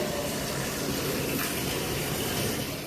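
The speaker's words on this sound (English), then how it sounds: "You got water everywhere." Water floods a cell block inside Georgia State Prison, a steady, loud rushing and gushing that fills the whole stretch without pause and with no voices.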